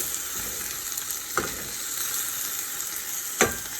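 Turkey for a Mexican turkey bowl fries in a pan with a continuous close, bright sizzle, broken by two brief sharp scraping stirs.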